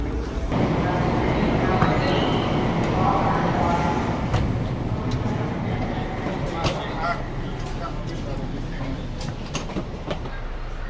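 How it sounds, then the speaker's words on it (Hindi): Subway train in an American subway station rumbling and clattering steadily, with rail clicks and faint squeals, while someone talks over it. "ये देखिए भाई इस टाइप की ट्रेन"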